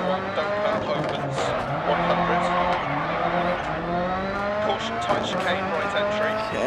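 A rally car in Dirt Rally on a German stage revs hard and launches with the handbrake held, engine droning loudly and steadily with tire noise, while a voice talks over it.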